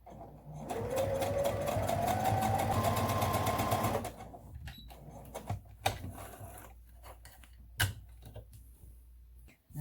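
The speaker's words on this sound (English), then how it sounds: "And sew this side now." A sewing machine stitches the side of a fabric face mask, a rapid rhythmic whirring run of about three seconds followed by quieter handling clicks and rustles, close, with no talking.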